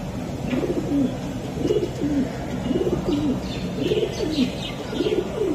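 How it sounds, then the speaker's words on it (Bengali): Pigeons at a market coo in a clear repeating rhythm, several rolling phrases a second or so apart, near and fairly loud over faint background bustle. "কেমন কবুতর দুটো ভাই?"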